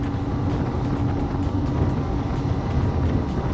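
A Ranieri International Cayman 38.0 Executive Trofeo motorboat pushed to full throttle, twin engines roaring in a loud, steady drone mixed with rushing wind and water spray, continuous with no speech.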